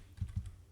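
A few soft, close keystrokes on a computer keyboard tap out in a quick, quiet burst with no talking.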